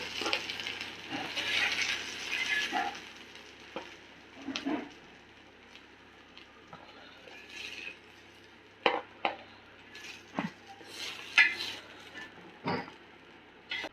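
Chicken alfaham being moved from a pan into another vessel in a kitchen, with intermittent clinks and scrapes of metal utensils against cookware, quiet between sharper knocks.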